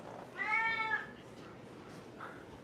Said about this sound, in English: I hear your cat. Yeah, I know. She's loud.